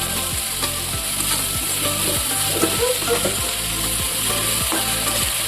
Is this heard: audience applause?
no